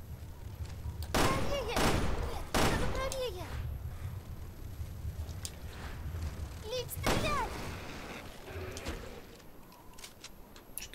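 Gunfire in the video game Resident Evil Revelations 2, a few loud sharp shots with ringing tails spread over the span, mixed with game sounds and someone talking.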